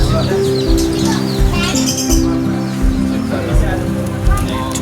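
Many small birds, including lovebirds and budgies, chirping and tweeting at once in a pet shop, busy and close, with people talking in the background and steady indoor hum.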